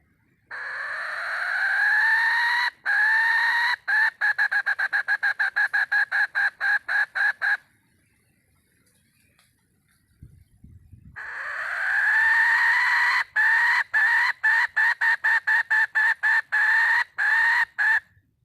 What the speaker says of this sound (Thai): ได้ยินเสียงไก่